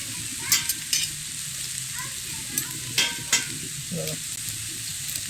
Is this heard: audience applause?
no